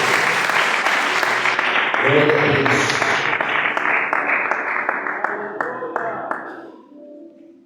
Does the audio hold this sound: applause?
yes